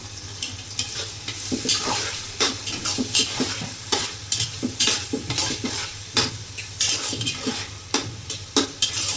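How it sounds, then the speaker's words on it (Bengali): Half a kilo of onions frying in a pot for beef bhuna, a steady close sizzle broken by repeated clanks and scrapes of a spoon stirring against the metal, with no talking. "এই যে পেঁয়াজগুলো সব দিয়ে দিব, প্রায় এখানে আছে 1/2 কেজির মতো পেঁয়াজ।"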